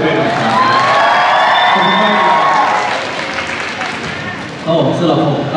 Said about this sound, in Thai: ผมขอเสียงปรบมือเรื่อยๆนะครับ